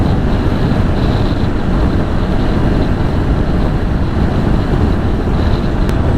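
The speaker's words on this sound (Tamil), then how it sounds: "காற்று அதே மாதிரி செம்ம விண்டு" Strong wind roars steadily into the microphone during a motorbike ride toward Kodaikanal, a dense, constant rushing buffet with no breaks and no talking.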